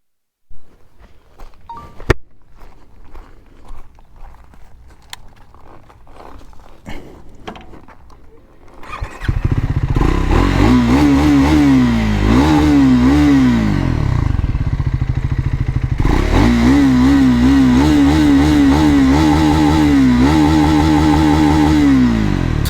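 A Triumph Scrambler 400X motorcycle sits quiet apart from faint handling clicks, then its engine fires up and settles into a loud, steady idle with a couple of revs rising and falling.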